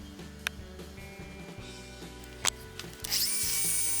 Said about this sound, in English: The rings are cut using fine Dremel bits.